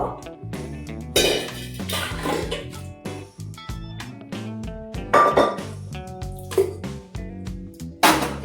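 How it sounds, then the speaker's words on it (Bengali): Pressure cooker lid being opened with metal pots and utensils clinking and clattering in a kitchen, irregular close ringing knocks and scrapes, no talk. "এবার প্রেসার কুকারে ঢাকনা খুলে নিচ্ছি"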